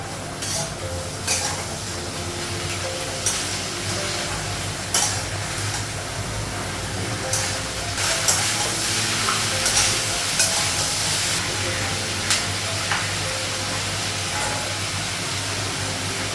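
A fish head cooks in a pan with salt, turmeric and cumin powder, giving a constant steamy hiss and sizzle with scattered stirring clinks and scrapes throughout.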